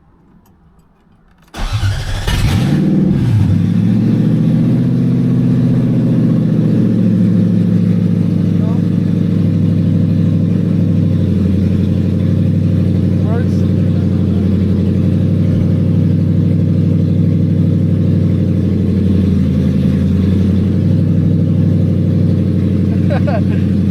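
A Lexus SC400 fitted with a CD009 manual gearbox through a Collins swap kit cranks and fires after a short quiet stretch, then runs loudly and steadily at idle right up close for the rest of the clip.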